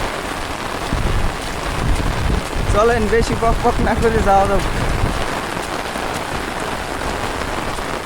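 Heavy rain pours steadily over a village river during a downpour, a dense continuous hiss of drops on surfaces, with someone speaking briefly over it in the middle.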